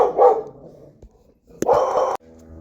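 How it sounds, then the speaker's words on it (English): A dog barks outdoors in one close, loud burst of several quick barks lasting about half a second, with quieter background sound before and after. "my dog was barking there for a second"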